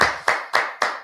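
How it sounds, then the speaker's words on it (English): Audience clapping in a church gathering, four sharp, evenly spaced claps in quick succession, close and fairly loud with no voices over them. "I always hate when y'all clap because by the time I find the applause, it's over and done with."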